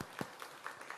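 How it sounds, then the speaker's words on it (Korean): A church congregation claps softly to welcome a newly engaged couple, with a few scattered, distinct claps that sound quiet and somewhat distant. "환영합시다. 박수로 하겠습니다."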